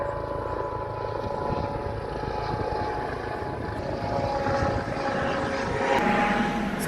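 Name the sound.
aircraft flying low overhead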